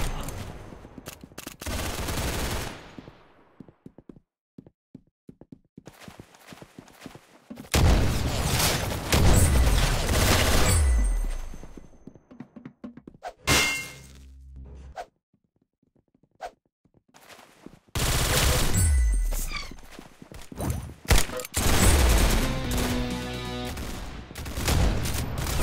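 Bursts of automatic gunfire and booms from the video game Arsenal come in loud, close volleys separated by quiet gaps, with rapid clicks and shots stacking up in the busier stretches.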